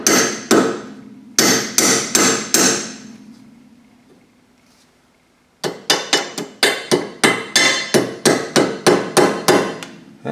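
A hammer taps a nylon washer onto a sway bar link on a Jeep XJ with a 3-inch Skyjacker lift. Sharp metallic strikes come in a short cluster, then a quiet gap, then a fast, even run of about a dozen blows.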